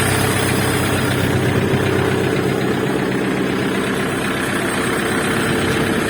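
KENTAVR 404S tractor with a four-injector diesel engine idling steadily up close, a loud, even low rumble with a faint knocking pulse that holds unchanged throughout, with no voices over it.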